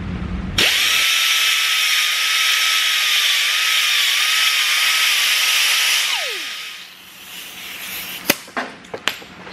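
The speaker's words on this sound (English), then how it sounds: "So I'm gonna use a sander, basically a 90-degree rotary sander." A 90-degree rotary sander grinds down chrome trim on a Honda NSX being prepared for track use, a steady close high whine for several seconds that winds down, followed by a few sharp knocks.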